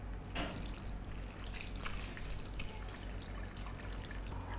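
Cold water is poured over boiled pasta, making a soft, continuous trickling splash with a faint drip near the start. It is quiet and close, and no one speaks.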